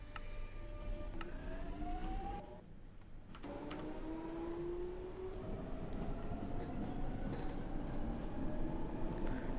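Minecraft trains rumble and clatter past a station platform in a steady, moderately loud rolling sound, with a brief dip and pitch-shifting tones as cars pass.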